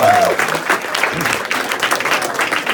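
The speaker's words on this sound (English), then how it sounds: "Ladies and gentlemen, give these folks a huge round of applause." Audience applause at a live hypnosis stage show, loud, dense clapping from a crowd that carries on steadily, with some cheering and voices mixed in.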